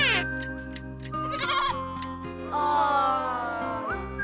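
A young goat bleats in thin, wavering cries, two or three calls close by, with light jingling in the background.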